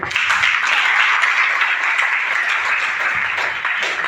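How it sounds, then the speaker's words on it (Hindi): An audience at a seminar in Bihar Sharif bursts into sustained applause, dense and even clapping from many hands filling the hall, near and loud for the whole stretch with no talk over it. "एक बार अपने लिए तालियां बजाएं।"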